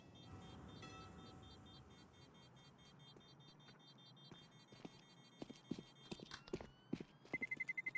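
Footsteps in a Counter-Strike match, quiet at first and then growing into a series of sharp, close steps in quick succession toward the end, with faint game ambience and no talk.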